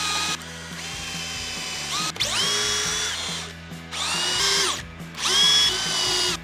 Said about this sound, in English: you're gonna wanna pre-drill your holes so that the screws go into the wood easily